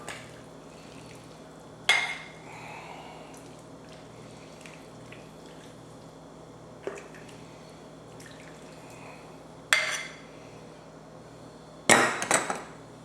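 Chicken noodle soup is stirred and ladled into a bowl in a quiet kitchen, with four separate sharp clinks and scrapes of the ladle against the pot spaced several seconds apart, and faint liquid sounds between them.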